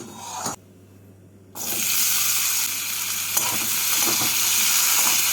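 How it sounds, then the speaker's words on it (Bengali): Potatoes hit hot white oil in a wok on a gas stove and burst into a loud, steady sizzle after a brief quiet moment, with a faint clink of stirring along the way. "তেলটাকে ভালো করে গরম করে নিয়ে এর মধ্যে আলুগুলোকে দিয়ে"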